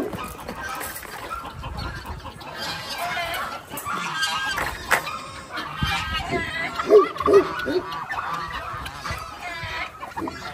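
White guinea fowl on a farm calling in a busy, noisy chorus, harsh honking cries overlapping close by with several louder squawks near the middle.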